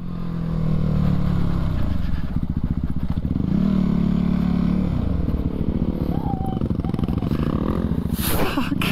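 Suzuki DRZ 400 motorcycle being ridden, likely off-road: a loud, close, continuous engine drone with rhythmic pulsing and shifts in pitch as throttle changes, accompanied by clattering and wind noise throughout.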